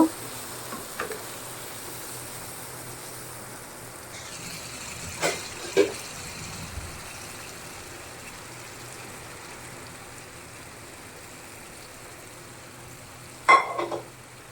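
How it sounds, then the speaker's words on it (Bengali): Spice masala frying and being stirred in a pan, a low steady sizzle with a few short scraping knocks around the start and a louder clatter near the end, no talk. "অনেকক্ষণ ধরে মশলা কষাইতেছি"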